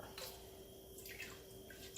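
Almond milk soup base is poured into a pot on a stove over high heat, a faint, brief liquid splash and trickle against a low steady hum, with no talking.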